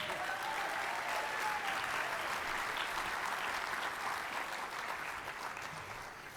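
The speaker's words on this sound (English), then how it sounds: "let's have a final round of applause for my three amigos" An audience at an awards banquet gives a final round of applause, steady, dense clapping that holds throughout and fades slightly toward the end.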